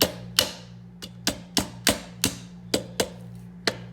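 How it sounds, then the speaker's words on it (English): A hammer taps sharply on metal about ten times in an uneven rhythm, close up, driving pins into a gun lower receiver during a Fostech Echo 2 trigger installation, with a low steady hum in the background. "I'm just using a hammer"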